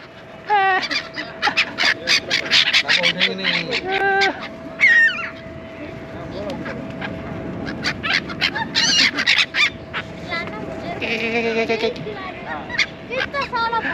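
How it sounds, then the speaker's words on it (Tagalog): Many geese honking near a port, a busy overlapping chorus of repeated nasal honks that come in waves and swell at moments, with a steady tonal hum underneath. "Ang daming ibon."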